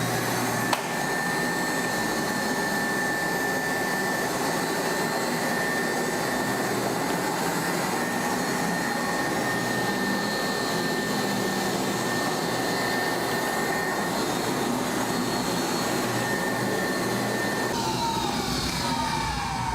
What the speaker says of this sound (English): Next step is taking a walk-behind scrubber and making sure that you're getting up all those suds.